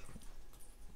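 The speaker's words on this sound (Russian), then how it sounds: "Мои собаки играются." Dogs playing together indoors, a close, steady scuffle of paws, soft thumps and low huffing that runs through the whole second without pause, with no talking.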